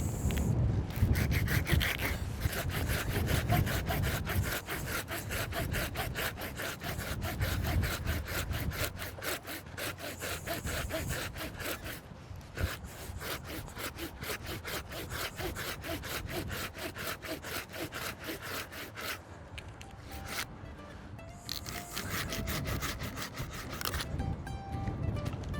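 Hand pruning saw cutting through a tree branch, rapid rhythmic back-and-forth rasping strokes close up, continuing steadily with a couple of brief pauses before resuming.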